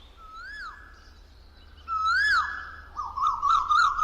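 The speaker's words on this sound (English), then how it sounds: "It is the Asian quail, a bird which is often heard but rarely sighted." An Asian quail calls in a jungle: clear rising-and-falling whistled notes, one near the start, a louder one around the middle, then a rapid warbling run at the end, carrying over a quiet forest background with no voices.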